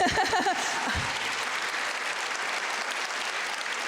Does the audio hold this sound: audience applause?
yes